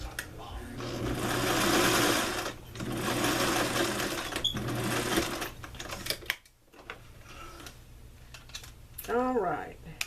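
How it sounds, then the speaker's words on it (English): Sewing machine stitching along a zipper placket edge, running in long loud bursts for about six seconds with brief pauses, followed by quieter handling sounds and someone talking. "I'll sew you right along this edge"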